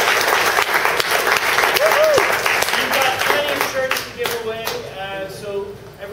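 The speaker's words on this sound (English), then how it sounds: "I'd like to give a great big round of applause to the co-founder and CTO." Audience applause at a tech talk on reactive programming and REST-based SQL apps, a dense wash of clapping that holds strong for several seconds, then thins out and fades toward the end.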